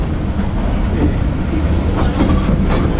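Abt rack railway train travelling between Strahan and Queenstown in Tasmania, a steady loud rumble of wheels and carriage noise filling the whole stretch, with faint clatter and a few brighter squeaks toward the end.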